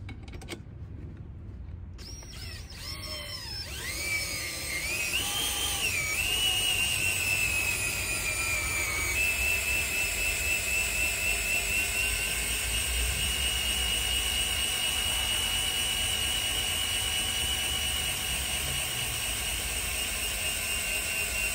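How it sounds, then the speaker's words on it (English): A power drill driving a foldable car jack whirs, its whine climbing as it spins up, then holding a steady high pitch over a low mechanical rumble for a long stretch. "I'm going to use my drill now."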